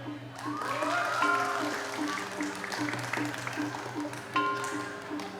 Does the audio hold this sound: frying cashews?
no